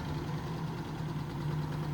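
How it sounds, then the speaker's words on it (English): Steady close idle from an abandoned Mercury Capri Turbo, choke fully open, a low even engine hum holding constant with no voices. "And it'll stay idling."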